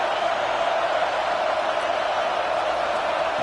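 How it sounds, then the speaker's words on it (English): A roaring stadium crowd at a Clemson vs Louisville college football game makes a dense, unbroken wall of loud noise that holds steady throughout. "listen to this crowd noise. This stadium is vibrating."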